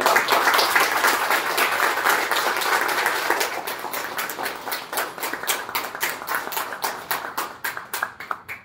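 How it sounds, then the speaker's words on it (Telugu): An audience applauds a company: dense crowd clapping that settles into a steady, crisp patter of many hands, sustained and fairly loud throughout with no talk. "ఈ కంపెనీకి బిగ్ క్లాప్స్ కొడదాం అందరం"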